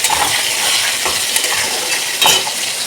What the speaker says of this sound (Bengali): ওই পেঁয়াজ ভাজার তেলেই আমি তেজপাতা দিয়ে দেবো আর পেঁয়াজ দিয়ে দেবো মাংস কষার জন্য